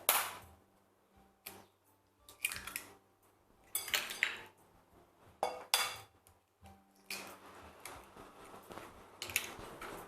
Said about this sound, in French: Donc, d'abord, nous mettons 3 œufs.